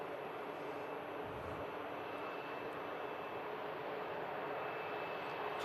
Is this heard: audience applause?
no